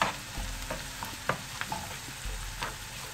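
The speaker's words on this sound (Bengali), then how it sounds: "এবার একসাথে পেঁয়াজ সহ এই আদা রসুন বাটাটাকে ভেজে নিতে হবে।" Sliced onion frying together with ginger-garlic paste in a pan, a steady low sizzle broken by a few sharp clicks and scrapes of stirring, close and fairly quiet, no voices.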